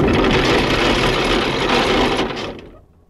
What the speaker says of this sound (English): You drop the anchor, you're just releasing the brake.